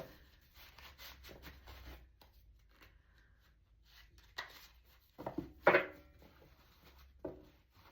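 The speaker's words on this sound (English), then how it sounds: "So we're going to shuffle it back up" A deck of tarot cards is shuffled by hand, soft papery rubbing and riffling in scattered bursts with a louder flurry of card flicks near the end, quiet and close with no talking.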